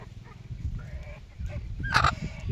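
A chicken lets out one brief, sharp squawk near the end, standing out over faint, low background rumble.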